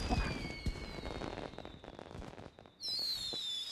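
Firecrackers bursting near and far, with sharp cracks and pops scattered over a high whistling tone that cuts off and then starts again louder.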